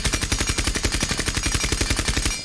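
A suppressed rifle fires in Rainbow Six Siege on the shooting range in one rapid automatic burst of about thirty evenly spaced, punchy muffled shots lasting over two seconds, then stops abruptly.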